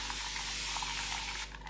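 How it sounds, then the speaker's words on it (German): A spray bottle misting damp hair during styling, one short continuous hiss close up that cuts off near the end. "Da sprühen wir das Ganze mal an."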